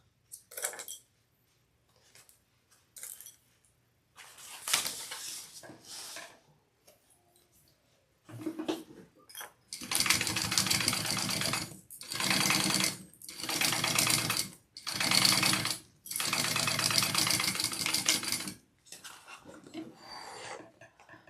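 A sewing machine bastes a handbag panel in several bursts of fast rhythmic stitching, starting with short runs and then longer runs separated by brief pauses, with small handling clicks between.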